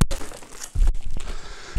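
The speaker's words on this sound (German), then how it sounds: "Dann nehme ich die Tüte nach unten." A shopping bag crumpled and handled close by, with crinkling rustles and a few sharper crunches and thumps in an uneven rhythm.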